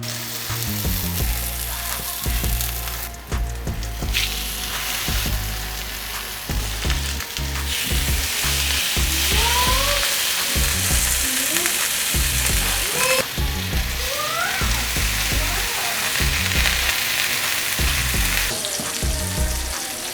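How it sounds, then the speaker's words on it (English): Salmon sears in hot grease in a pan, a steady loud sizzle and crackle running throughout with occasional clinks and scrapes of a utensil against the pan. "a nice sear on one side of your salmon"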